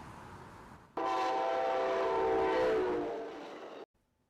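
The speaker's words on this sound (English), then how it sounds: "complaints about what you just heard, train noise that has gone from bad to worse" A train in Encinitas roars past with a loud, sustained horn blast lasting about three seconds, cutting off abruptly over a low rumble of rail noise.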